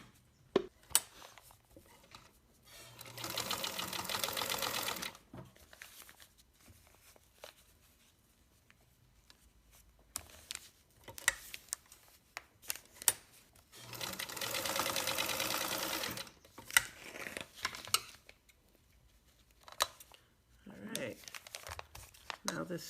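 A sewing machine runs in two bursts of rapid, even stitching while basting straps onto a baby carrier, separated by quieter handling rustles and fabric crinkling, with a person speaking at intervals.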